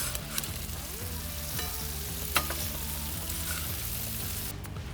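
Bacon strips fry on a hot plancha, a steady close sizzle with a few sharp pops and crackles and a faint hum beneath, without any voices.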